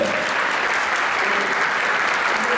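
Applause from a group at a football club welcome party for new members, a dense steady wash of clapping that holds at full level for the whole stretch with no talk over it.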